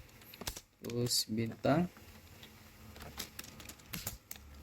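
Computer keyboard typing of an SQL select query, quick clicky keystrokes scattered through the clip, partly under a man's nearby speech.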